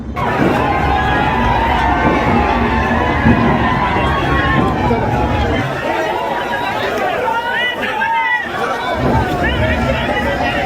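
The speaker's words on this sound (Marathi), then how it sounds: "विजयी उमेदवार डॉक्टर राहुल आहेर यांना खांद्यावर घेत गुलालाची उधळण करत या ठिकाणी जल्लोष साजरी होताना आपल्याला बघवायस मिळत आहे" A dense outdoor crowd at a victory procession in Chandwad for the winning candidate Dr. Rahul Aher chatters, shouts and cheers continuously while he is carried on shoulders and gulal is thrown, a loud, steady babble with brief lulls.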